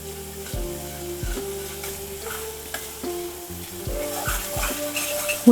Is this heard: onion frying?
yes